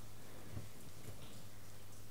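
Rain falls during an early start to the Tamil rainy season, a steady, even hiss of drops with a low hum beneath it and a couple of faint soft thuds, with no voices.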